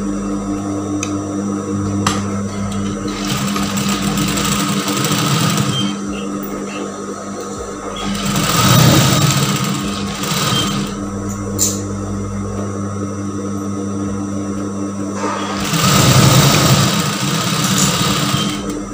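A sewing machine runs steadily, stitching two-colour fabric pieces for a gamis, right sides together with a 1 cm seam; a constant mechanical hum with two louder surges, no talking.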